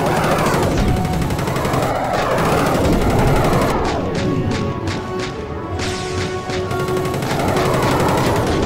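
Rapid bursts of machine gun fire from the Rocket Ranger Reloaded game, sustained and loud with dense repeated cracks, a stretch of sharper separated shots partway through, and no talking.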